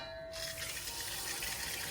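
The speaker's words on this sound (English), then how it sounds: "now I'm just gonna take this to the sink and add cold water to it" Cold water runs from a kitchen sink tap in a steady, fairly loud gush that continues throughout, likely filling a bowl while preparing chicken for steaming.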